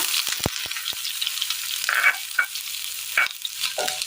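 Onion and mustard seeds frying in a hot pan for a Kerala curry, a soft steady sizzle with several sharp crackles and pops of seeds and a stir, nearby and fairly quiet, no speech.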